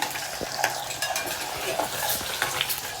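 Onions and eggs fry and sizzle in a pan with steady stirring, spoon scrapes and light clinks of utensil on metal running over the constant crackle, close by with no talk.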